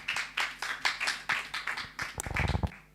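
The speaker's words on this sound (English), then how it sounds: "Please clap for her. Clap for her." Clapping from a church discipleship class audience, a steady run of individual hand claps about every quarter second, fairly close, ending in a quicker flurry of claps before it fades.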